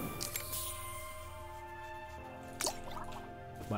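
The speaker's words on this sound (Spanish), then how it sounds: "voy a tirar el agua" Water is poured out in the video game Nova Lands, heard as a short liquid splash or drip over steady, droning game music.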